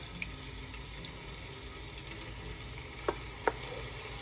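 Sofrito of wine and chopped tomato added to a pot of oxtail, a low steady sizzle close by with a couple of sharp clinks from the spoon or pot near the end.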